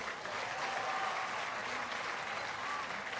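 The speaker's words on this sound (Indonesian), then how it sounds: "tepuk tangan untuk Kementerian PU" A crowd at a ceremony for rebuilding the collapsed Al-Khoziny Islamic boarding school applauds the Ministry of Public Works, dense steady clapping heard from a little distance, with a voice faintly under it.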